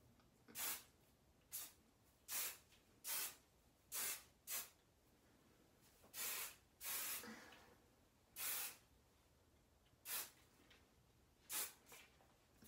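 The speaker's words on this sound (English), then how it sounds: "I'm just gonna go through it and spray it one more time to set it" An aerosol hairspray hisses in about a dozen short bursts, some longer than others, separated by quiet pauses, close and fairly soft.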